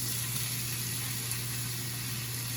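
Salmon pieces sizzling skin side down in a dry frying pan with no oil, a steady faint hiss with a constant background hum and no talk.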